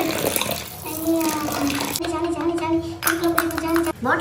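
Tap water running while a Barbie doll is bathed, a steady broadband wash that continues throughout with a faint tonal ring over it, under a voice talking.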